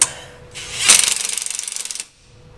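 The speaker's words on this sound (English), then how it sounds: "Once you get the bolt started into the frame, go ahead and tighten it up." A bolt is driven into a motorcycle frame with a power tool during a drop seat kit install: a short whir, then a rapid rattling hammer burst of about a second that stops abruptly, close and loud.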